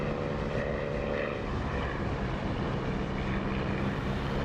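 Propeller aircraft engine held at 2,700 RPM in a flight simulator game, a steady droning buzz with a constant rumble, moderately quiet and unbroken, with no voices.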